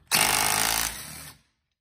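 A DeWalt 3/8 impact wrench set at 120 foot pounds fires a single short burst of rapid hammering rattle, loud and close, stepping down briefly before stopping.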